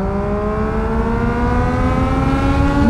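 A 2022 Suzuki Hayabusa motorcycle accelerating hard in third gear, its engine note climbing steadily in pitch as revs build, loud and close with a smooth rising whine and no voices.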